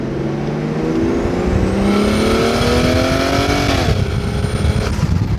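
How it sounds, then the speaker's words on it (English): A very powerful car revs and accelerates hard while cruising, its engine note climbing steadily through the gears, loud and close as heard from inside the cabin. "I have not been in a car that pulls harder."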